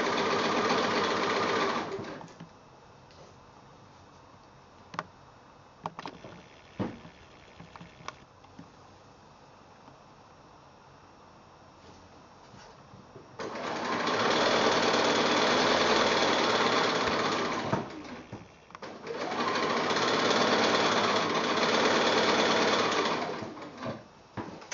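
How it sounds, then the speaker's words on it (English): A sewing machine chain-pieces quilt strips for two blocks, running in a steady, even whir for a few seconds, pausing amid small clicks and handling noises, then running two longer sustained bursts close up. "you can just chain piece both blocks through at the same time"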